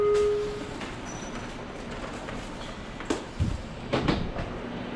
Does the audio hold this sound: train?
yes